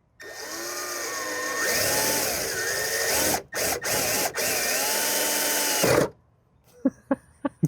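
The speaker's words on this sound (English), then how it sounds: "We're also making a pilot hole with a massive drill bit." A power drill with a large bit runs loudly boring a pilot hole, its whine rising and falling, with a few quick stops. Then it goes quiet except for a few sharp taps.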